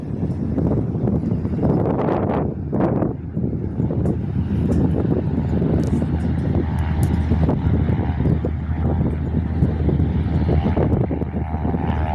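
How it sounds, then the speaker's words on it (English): A blue Cessna C172 departs Jandakot airport's runway on a windy day, its propeller engine a loud, steady drone heavily buffeted by wind noise on the microphone throughout, with no voices. "Second blue Cessna C172 departs Jandakot's touch and go runway."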